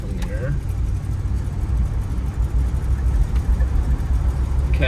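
A 1991 Jeep Grand Wagoneer's engine runs rough and struggling after a carb-cleaner start, a steady loud low rumble throughout with faint voices in the background.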